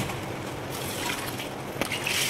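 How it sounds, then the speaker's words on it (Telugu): Two glasses of water poured into a pot of moong dal (pesarapappu) cooking with tamarind pulp, a steady close wash of pouring and sloshing that runs unbroken for a couple of seconds. "ఒక 2 గ్లాసుల వాటర్ కూడా పోసుకుంటున్నాను, ఎందుకంటే ఉడకాలి కదా."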